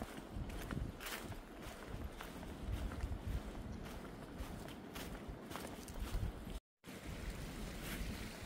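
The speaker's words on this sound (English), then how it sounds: "Got water flowing next to me." A stream runs beside a hiking trail on the Appalachian Trail in North Carolina, giving a steady, full rushing wash with footsteps or rustling close by and no talk.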